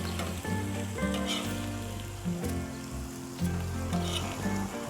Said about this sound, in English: give them a nice saute on here